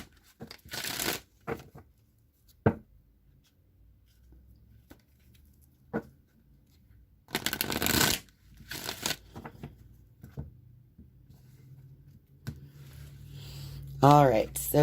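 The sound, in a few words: shuffling a Queen of the Moon oracle card deck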